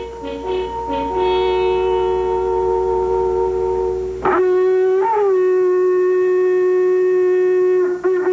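Rebel the dog gives long, wavering howls in answer to a horn, a sustained tonal wail that breaks and restarts partway through before rising again, close and loud.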